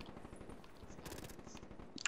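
Rapid hip-fire bursts from a gun in Call of Duty Black Ops 3, a quick faint rattle of shots with a sharper crack at the very end, no talking.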